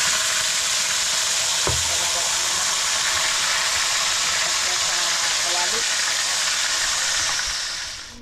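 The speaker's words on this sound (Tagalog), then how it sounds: "Simulan natin yung pag-prito." Fish slices frying in hot oil, a steady broad sizzle and crackle that runs nearly the whole clip at an even level before fading at the end, with a faint thump early on.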